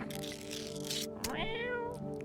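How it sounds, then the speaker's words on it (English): A cat in a video game gives a loud, drawn-out meow with a rising and falling wail. Game background sounds run underneath it. "Hello, cat. I pet the cat."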